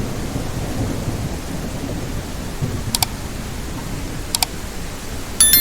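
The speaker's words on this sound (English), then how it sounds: "And let's set it to thunderstorm." Simulated thunderstorm from a sky-simulation program: steady, loud rain hiss with rumbling thunder underneath, a few sharp crackles breaking through, and a louder burst at the very end.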